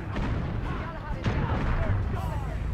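Booming shotgun blasts and a heavy gunfight in the video game The Order 1886, loud and dense, with a couple of sharp reports standing out over the rumble.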